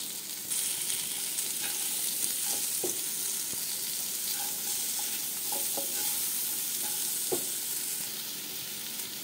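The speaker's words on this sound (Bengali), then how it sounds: "দেবো কেটে রাখা আমড়া, দেবো অল্প হলুদ, ভালো করে একটু ভেজে নেব" Cut hog plum pieces frying with a little turmeric in a pan, a steady close sizzle broken by scraping stirs from a spatula.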